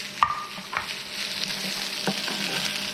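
Rice hits hot oil in a wok and stir-fries with a constant bright sizzle, punctuated by a few sharp scraping and clanking strokes of the spatula against the metal.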